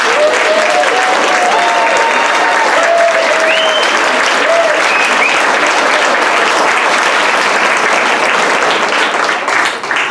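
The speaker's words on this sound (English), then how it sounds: "let's give one more round of applause for Catherine." An audience at the 2023 Human Rights Day luncheon applauds an award recipient. The clapping is loud, sustained and dense, with a few whistles and cheers rising over it, and it fades slightly at the very end.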